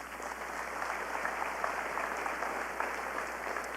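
Applause at the Dancing with the Southern Stars 2019 gala honors the boards of directors of both agencies and committees, a loud, sustained crowd clapping with steady crackle and no speech.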